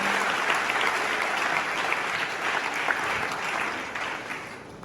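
A crowd of attendees at a career guidance event in Ghana claps continuously, a dense, even wash of applause lasting several seconds with no talk over it.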